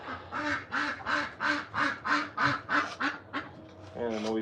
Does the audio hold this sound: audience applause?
no